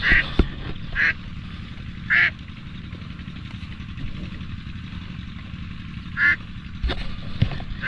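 A flock of ducks being herded quacks in short, distinct bursts over a steady low engine-like hum, with several calls spaced a second or more apart, moderately close.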